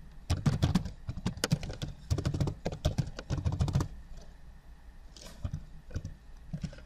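Someone types an email on a computer keyboard, with quick close bursts of keystrokes for about four seconds, then a pause and a few scattered, softer key taps.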